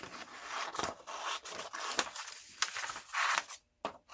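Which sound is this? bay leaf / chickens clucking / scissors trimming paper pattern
scissors trimming paper pattern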